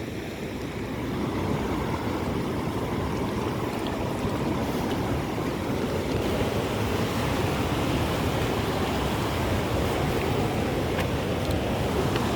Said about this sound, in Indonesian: Kayaknya makin kencang ini airnya.